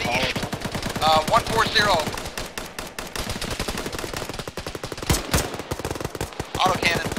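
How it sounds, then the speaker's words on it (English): In Arma, played by ShackTac, rapid autocannon fire hammers out in dense, regular bursts, loud and close. Radio chatter comes through between the volleys. "Autocannon."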